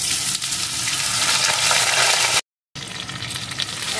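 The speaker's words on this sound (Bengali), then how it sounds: "এখন আমি আলুর টুকরোগুলোকে এর ভিতরে দিয়ে দেব।" Potato pieces frying in hot oil tempered with whole cumin for a fish and yam curry, a steady close sizzle with stirring, cut by a brief silent gap before the crackle resumes.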